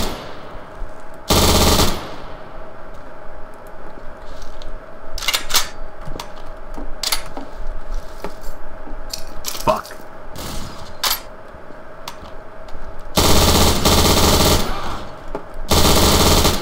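MG42 machine gun fire in Garry's Mod, a small-town map, coming in several loud bursts: a long sustained stream near the end, shorter rattling volleys through the middle, and a steady ambient bed underneath.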